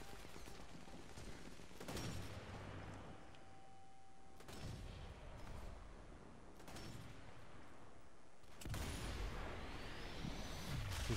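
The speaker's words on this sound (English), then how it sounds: "These fucking machine guns." Rapid machine gun bursts in Sniper Elite 4, loud, steady volleys of gunfire separated by brief pauses, with a heavier crash of shots near the end.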